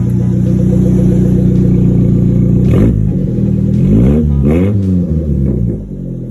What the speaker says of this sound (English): gotta start the car up without the muffler on,